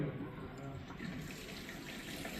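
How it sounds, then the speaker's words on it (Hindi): A tap runs water into a washing machine during home cleaning, producing a steady, even rush and splash of flowing water from start to finish. "यहाँ से पानी खोलो"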